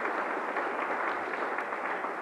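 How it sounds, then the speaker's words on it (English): Audience at a high school sports hall of fame ceremony applauding committee members, a brief steady wash of clapping from a crowd, moderately loud and unbroken. "A round of applause to our committee members as well."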